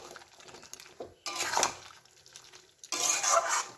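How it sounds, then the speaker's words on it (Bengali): Chicken stirred in a cooking pot: two short bursts of scraping and clinking as a utensil works against the pot, close and fairly quiet, with soft shuffling in between. "এবার নাড়তে থাকবো আস্তে আস্তে, ভালো করে মিশিয়ে নিই।"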